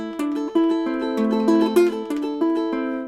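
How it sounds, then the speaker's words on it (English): A short plucked ukulele phrase, notes ringing clearly one after another with a few slurred transitions where one note pulls off into the next. "A pull-off is when you pluck a note and then you sort of pull on it with your left-hand finger."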